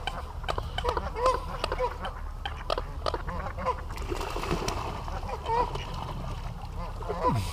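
A brown-headed duck quacks among other waterfowl at a park pond in Las Vegas, with intermittent water splashes and steady outdoor background noise; people talk nearby.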